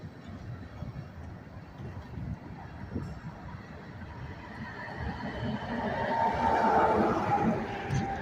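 A heavy freight train of empty diesel-fuel tank cars climbs a long hill, rolling past with a continuous low rumble and rhythmic wheel clatter that swells louder toward the end.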